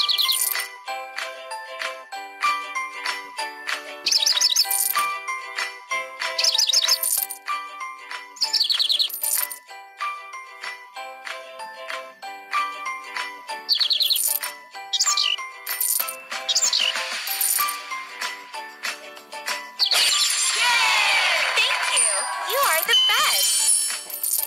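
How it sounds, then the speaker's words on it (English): Cartoonish birdsong chirps and tinkling jingles from a pony care video game, bright repeated tweets over light background music, ending in a brief shimmering flurry. "Let the birds sing."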